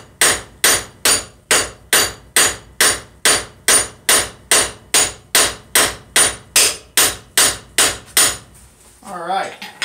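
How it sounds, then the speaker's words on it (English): A hammer strikes hot metal while fullering it at the forge, about eighteen loud, evenly spaced ringing blows, then a brief voice at the end. "instead of hammering just straight down, we want to try to spread this material"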